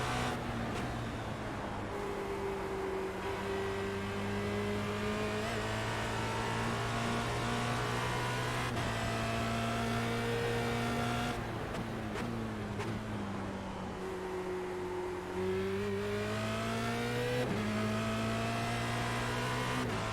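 Formula Renault 2.0 race car engine lapping Oulton Park in a sim racing game, a steady mid-pitched drone rising and falling with gear changes and revs, loud and continuous throughout.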